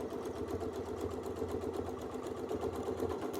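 A quilting machine sews double stitching in a steady, rapid mechanical chatter, close and continuous for a few seconds with no talking over it.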